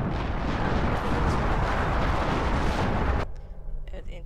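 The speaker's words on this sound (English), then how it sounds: "Incoming barrage." Artillery barrage in the Company of Heroes Opposing Fronts game, Liberation of Caen mission: a dense, loud roar of overlapping blasts for about three seconds, then it drops off abruptly into quieter rumbling.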